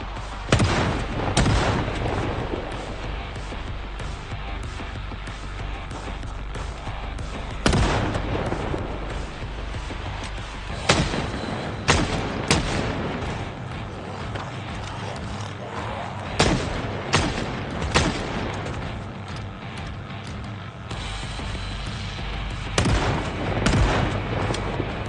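Repeated shotgun blasts ring out in Project Zomboid gameplay, loud sharp booms fired at uneven intervals over a dense, noisy game soundscape, continuing throughout without speech.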